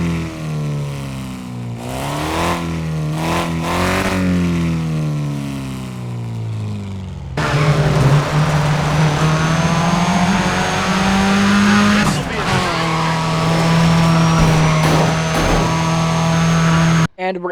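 Car engines rev in the Car Mechanic Simulator 2026 video game, loud, close engine tones rising and falling through gear changes, then a harsher, sustained high-revving drone with sharp shifts, and no talk over it.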